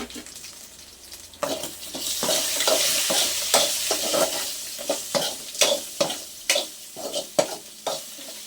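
Drumstick fry being mixed in a pan, with a constant hiss of frying under a regular series of close, distinct spatula scrapes and taps.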